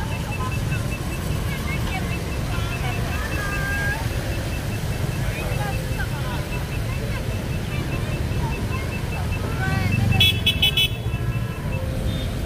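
Busy night traffic flows along Le Loi avenue in Saigon in the rain, a steady dense wash of passing vehicles with scattered horn toots, loud and continuous, with someone talking over it.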